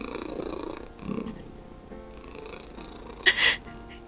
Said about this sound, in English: He's purring. He's actually purring.